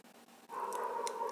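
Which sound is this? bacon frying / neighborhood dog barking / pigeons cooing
neighborhood dog barking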